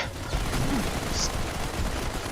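Rapid gunfire from the mobile shooter Modern Combat 5 rattles on steadily, a dense, continuous barrage with no clear gaps between shots.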